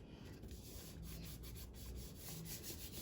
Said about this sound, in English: Fold it up and rub or massage. Give it a good rub.